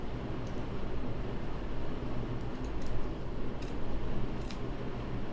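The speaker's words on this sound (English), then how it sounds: "I'm going to cut up from the hem to about 2 to 3 inches" Scissors snipping through a cotton T-shirt, cut upward from the hem to make a no-sew bag; a few soft, scattered snips and cloth rustles sound close over a steady, noisy room background.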